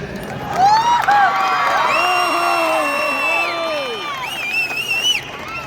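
Audience cheering, whooping and shouting at a music and speech event in Kudalasangama, loud and continuous through the clip, with high voices rising and falling over a steady crowd roar.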